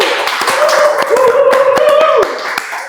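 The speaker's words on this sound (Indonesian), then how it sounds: "Tepuk tangan semua." A podcast audience gives a short burst of hand clapping at the start of the show, sharp and close, partly overlapping a sustained voice.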